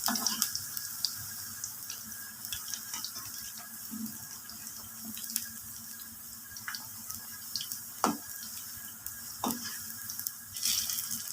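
Spinach pakoras frying in oil over slow heat, a steady soft sizzle and crackle with scattered sharper pops throughout, fairly close and continuous, with no talking.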